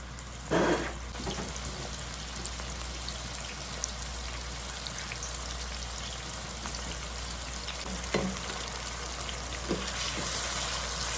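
Ground vegetables boiling and frying in hot oil with tomatoes added, a steady crackling sizzle with scattered pops and drips throughout, close and continuous with no talking.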